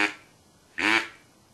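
Two soft, short quacks from a hand-blown duck call, a brief one at the start and a fuller, slightly longer one a moment later, close and quiet with no talking.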